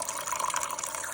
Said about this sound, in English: I'm going to add my bone broth, which is one I made a long time ago.